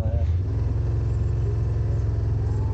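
Yamaha RMAX1000 side-by-side driving out of town on a Newfoundland trip, a close steady engine drone and low pulsing rumble throughout.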